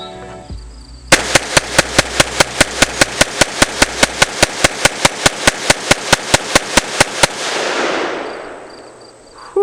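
A Kel-Tec PMR30 pistol fires about thirty rapid, evenly spaced shots outdoors, loud sharp cracks in a fast steady cadence that stop abruptly, leaving a fading rumble and echo.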